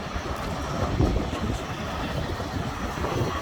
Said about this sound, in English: there's one of Blackpool Transport's trams that operate on this seafront